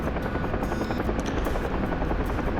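A helicopter in a video game set in an Afghanistan war scenario, its rotor throbbing loudly and steadily throughout at close range with no talk.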